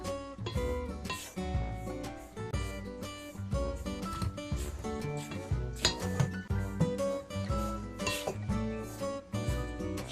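Flour and crushed Oreo cookies being mixed in a bowl, with repeated clinks and scrapes of a utensil against the bowl in an uneven rhythm, close and fairly loud, no talk.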